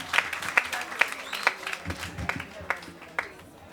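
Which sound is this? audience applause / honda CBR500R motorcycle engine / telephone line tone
audience applause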